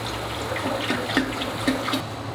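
A glycol-water mixture is poured into the tank of a Quantor MiniChilly 09 glycol chiller for a fermenter, a steady close splashing trickle with faint bubbling, with no talk.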